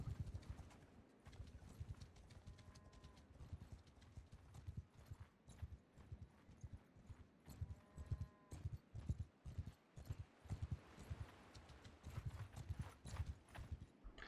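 Rhythmic clip-clop of horses' hooves galloping across the map in the medieval strategy game Bannerlord, a steady, fast beat with a couple of faint whinnies mixed in.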